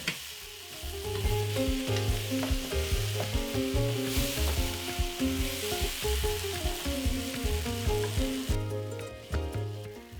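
Pot of green gram stew being shaken over the heat, a steady close sizzle with rhythmic scraping and clattering of the pot throughout, no talk.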